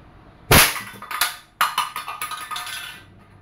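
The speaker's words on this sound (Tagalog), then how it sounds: "Okay, testing again. Crossman 2240. Firing." A Crosman 2240 CO2-powered bolt-action airgun firing a single shot: a sharp loud crack, then a second report followed by a rattle of quick fading metallic impacts.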